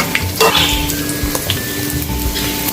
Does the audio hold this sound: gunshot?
no